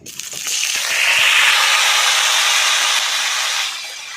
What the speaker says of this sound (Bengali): তেলটা গরম হয়ে গেছে এবার সেদ্ধ করা আলু আর এঁচড়গুলো দিয়ে দেবো